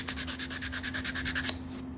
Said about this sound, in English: for something that small, I would just get a little sandpaper